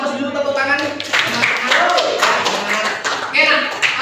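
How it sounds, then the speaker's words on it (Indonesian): Classroom clapping, a small group of students putting their hands together in uneven, close slaps, with voices talking and calling out over and between the claps. "Kita kasih aplaus dulu"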